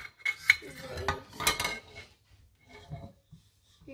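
Seeds and vegetables being stirred in a cooking pan, with scraping, clinking utensil-on-pan sounds loudest early on, then fading to quieter, sparse stirring.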